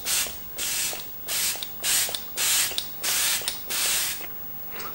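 A fine makeup setting spray with a glowy finish is pumped in about seven quick, evenly spaced bursts, each a soft close airy hiss lasting roughly half a second, with no voices.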